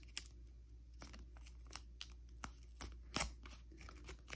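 Tape is pulled, torn and pressed onto a twisted paper strip, heard as quiet, close crinkles and sharp ticks in an uneven run, with no voices.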